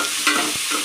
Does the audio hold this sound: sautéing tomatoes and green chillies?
yes